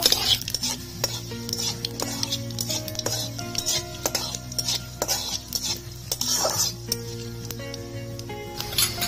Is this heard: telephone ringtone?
no